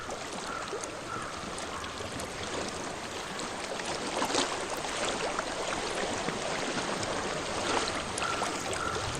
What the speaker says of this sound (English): Water. Where's the water at? Let's reach the water.